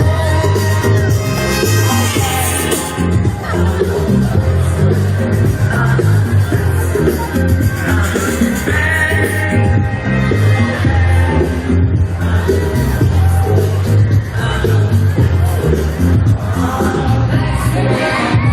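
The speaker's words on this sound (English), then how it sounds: "So we got a crowd here." A gathered crowd of protesters outside, a continuous loud murmur of many voices with occasional shouts and whoops, steady throughout with no single voice standing out.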